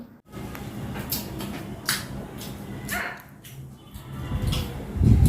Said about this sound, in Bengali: আমাদের টেবিলের নিচে না মনে একটা কুকুর আছে কেমন একটা চপ চপ শব্দ